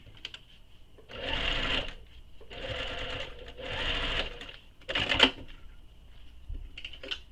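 Sewing machine stitching a topstitch seam on a handbag, three sustained runs of motor whirring separated by brief pauses, close and steady, with a short sharp click near the end.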